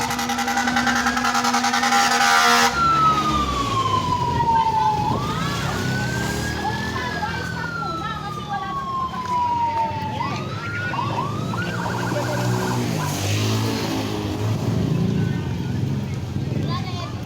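Fire truck sirens wail in long rising and falling sweeps, moderately close, as fire trucks arrive at a house fire. Voices talk underneath amid general street noise.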